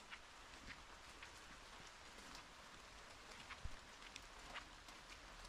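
Steady rain patters down on a surface, a dense even hiss with scattered drops, continuous and fairly soft throughout, with no voices.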